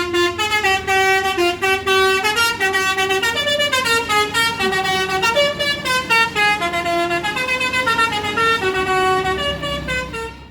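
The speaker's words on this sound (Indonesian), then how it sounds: "baru satu unit bus dari POANS yang masuk" A PO ANS bus pulls into Busur bus terminal sounding a loud, melodic multi-tone horn. The tune repeats continuously for about ten seconds in a rapid, rhythmic pattern of shifting notes, close and dominant over faint engine rumble.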